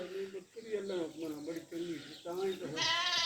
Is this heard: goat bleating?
yes